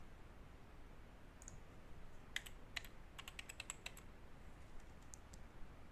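Keys tapped on a computer keyboard while a basic password is typed, a scattered run of light, quick clicks over a faint steady room hiss, fairly close and quiet.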